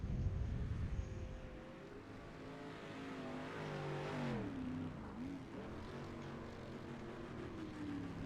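Dirt race car in a DSS racing video game at Bark River Speedway, its engine revving and climbing in pitch as it accelerates, then dipping and pulling again through a corner, steady and close with no talk.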